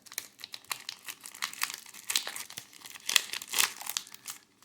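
Card game booster packs torn open down the side, a close, continuous crinkle and rip of foil wrappers in quick irregular bursts over several seconds, with no talk.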